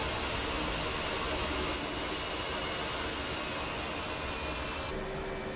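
An F/A-18C Hornet's jet engine taxiing in DCS World, a loud, continuous whine and roar holding steady, with a slight tonal shift near the end and no talk.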